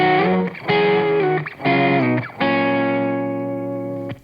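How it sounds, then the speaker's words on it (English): Electric guitar played through a distortion circuit effect pedal, several sustained distorted chords with short breaks between them, the last ringing out and slowly fading, loud and close with no voices. "Distortion circuit."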